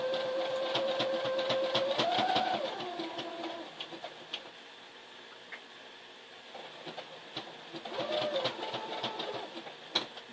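A sewing machine runs a zigzag stitch on a flag, giving a rapid mechanical whirring chatter with a rising motor whine in two bursts separated by quieter ticking.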